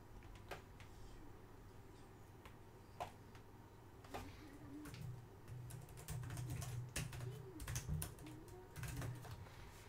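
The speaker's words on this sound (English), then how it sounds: "You don't know anything about typing quietly, do you?" Clattery typing on a computer keyboard, fast irregular key clicks close by over a low hum, with a voice murmuring faintly partway through.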